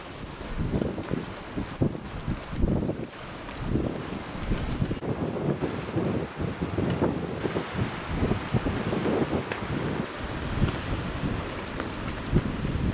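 The sea rocks moored boats along the shore with a steady wash of waves, partly masked by gusty wind buffeting the microphone throughout.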